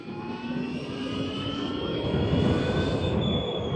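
An electric scooter (UV X47) accelerating with a rising whine, steady tonal lines over broad road and wind noise, continuous and moderately loud with no speech.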